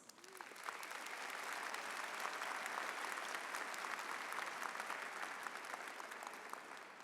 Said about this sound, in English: Let's also give them a round of applause.